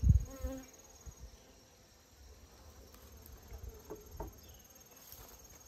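Honeybees hum softly around an open beehive, a faint, steady buzz with a few brief bumps and rustles close by during hive handling.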